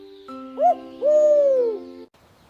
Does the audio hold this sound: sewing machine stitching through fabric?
no